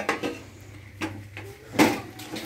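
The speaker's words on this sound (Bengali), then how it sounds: "এই যে আলু কাটাটা তোমাদের সামনে দিয়ে দিচ্ছি কড়াতে" Chopped potatoes tipped into a wok make a few sharp metallic clatters and scrapes with brief gaps between them, over a faint low background hum.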